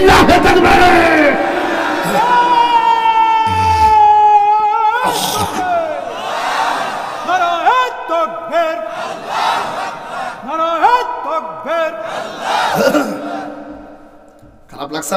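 A large religious gathering at a Bengali sermon shouts the takbir, Allahu Akbar, together in loud, echoing bursts. The chants are long, sustained and repeated, with a leading voice and the crowd responding in unison.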